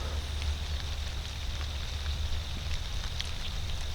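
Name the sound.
rain falling during evening deer hunt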